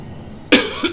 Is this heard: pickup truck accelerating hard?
no